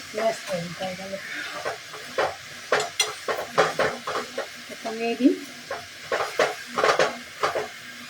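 Spoon stirring diced papaya into an oil-free banana flower curry in a pan, with repeated scraping strokes in an uneven rhythm and a light sizzle beneath; a voice speaks briefly between strokes.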